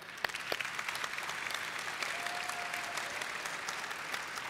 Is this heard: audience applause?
yes